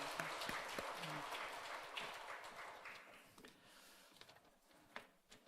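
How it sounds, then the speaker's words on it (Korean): A church congregation at a worship service claps in welcome, a dense burst of applause that thins and fades out toward the end, leaving a few scattered claps and small noises. "우리 환영의 박수 하겠습니다"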